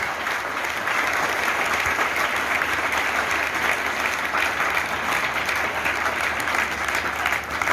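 A hall audience applauds steadily to welcome an IAS officer onto the stage at a local gathering, dense continuous clapping filling the whole stretch at an even level with no voices standing out.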